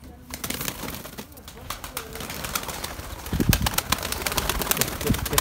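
Pigeons being fed in a breeding loft, with soft cooing and some wing flaps under steady nearby chatter and movement; a person talks briefly.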